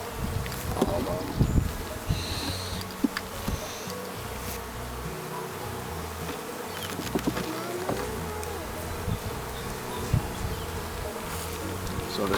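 Honey bees hum steadily around an opened beehive in spring after winter, a dense close buzz with individual bees droning past, and a quiet voice is heard faintly under it.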